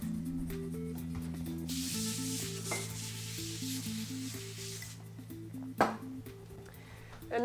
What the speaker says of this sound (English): I'm just gonna coat that grill a little bit with some cooking spray.